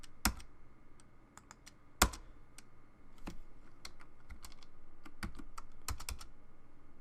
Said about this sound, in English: And then just press enter on your keyboard.